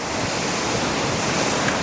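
Ocean surf washes in at Patiti Point, Timaru, a continuous broad roar of waves mixed with wind buffeting the microphone, loud and close, with no voices.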